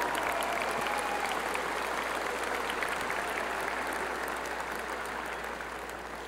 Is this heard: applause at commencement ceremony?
yes